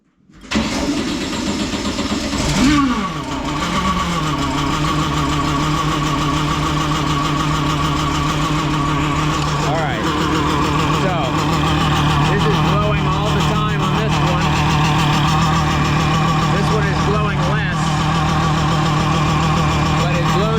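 A 1961 VW Beetle engine fitted with blow-off valves on softer springs starts up near, catching with a brief rise before settling into a steady, loud idle that carries on alone for the rest of the stretch.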